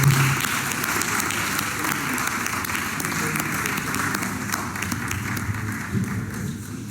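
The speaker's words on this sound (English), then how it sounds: "Please let's give a round of applause." A crowd at a pharmacy students' opening ceremony gives a continuous round of applause, heard in a reverberant hall with steady clapping throughout and a murmur of voices underneath.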